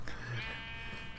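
A sheep bleats in a video game out in a horse and sheep pasture, one drawn-out nasal bleat over a soft steady ambient bed, with no talk.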